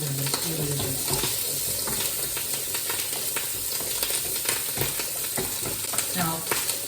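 Chorizo and bacon fry in a pan with a steady, loud, close sizzle and crackle that runs throughout, with faint stirring knocks underneath.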